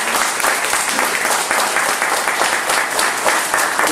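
An audience at an electoral reform symposium claps loudly and steadily, a close, dense round of applause filling the whole moment with no speech over it.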